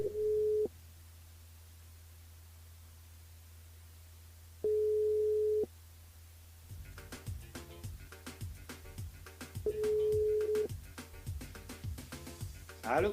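A telephone line tone while a caller is being rung: three short, loud beeps separated by long pauses, with a faint hum underneath and quiet jingle-like music entering partway through.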